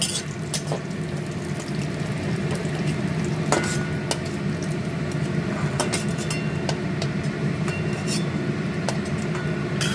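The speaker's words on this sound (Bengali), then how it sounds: "এরপর দেবো আমি কাজুগুলো একটু ভেজে নেব।" Cashews frying in hot oil in a pan while cooking sabu pulao, a steady close sizzle with occasional sharp clinks of a spatula stirring against the pan.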